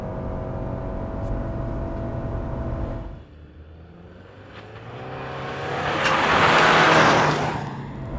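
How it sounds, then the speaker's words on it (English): 2024 Subaru Outback Wilderness with its 2.4-liter turbo boxer engine, first running steadily, then dropping to a quieter idle before building into a loud, rising surge of acceleration. "2024 Subaru Outback Wilderness. Without launch control. It's gonna hold the RPMs."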